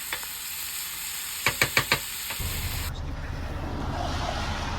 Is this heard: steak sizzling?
yes